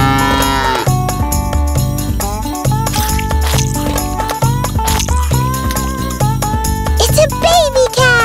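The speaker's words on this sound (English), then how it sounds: "It's a cow!" A cartoon cow in a children's farm animal song moos in long drawn-out calls over a bouncy musical backing with jingles, loud and close throughout.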